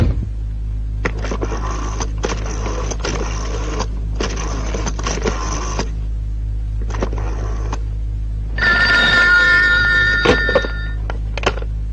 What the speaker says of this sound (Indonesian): telepon dokter Paijo, cepat ya.